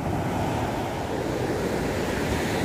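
Sea waves at Nha Trang beach roll in as a steady, loud, broadband wash with wind buffeting the microphone, continuous throughout and with nobody speaking.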